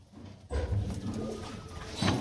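Pigeons in a home coop coo softly and close by, a low rolling coo starting after a short quiet moment and a second burst near the end.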